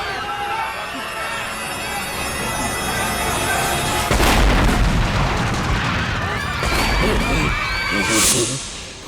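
A bomb hidden in a statue goes off in a TV crime drama, a loud booming blast with rumbling debris after a tense buildup, mixed with dramatic music.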